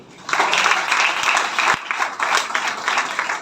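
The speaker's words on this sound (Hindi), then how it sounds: "जोरदार ताली इनके लिए।" An audience at a business lifestyle seminar bursts into loud, steady applause, with many hands clapping in a dense, slightly pulsing rhythm close by.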